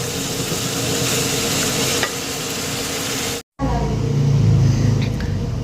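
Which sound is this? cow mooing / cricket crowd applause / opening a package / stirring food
stirring food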